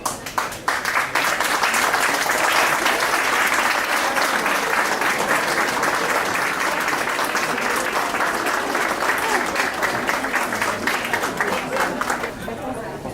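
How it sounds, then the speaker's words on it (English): A large graduation ceremony audience applauds loudly and continuously, dense clapping with some chatter mixed in, tapering a little toward the end. "Graduates, please turn, face the audience, and receive their applause."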